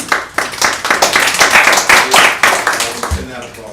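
A theatre audience breaks into dense, steady applause at a festival event, many hands clapping close and loud for several seconds before it thins out, with a voice faintly underneath.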